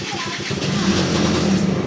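A Honda Dio stunt scooter's engine starts and revs up, a loud, close buzzing drone that rises and holds steady for under two seconds.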